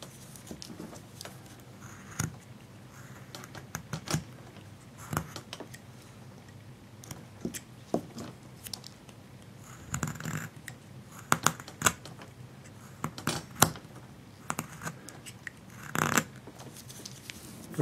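A knife carves a wooden Abe Lincoln bust in short, close, crisp cuts and scrapes, coming in irregular bursts with brief quiet gaps and growing busier toward the end.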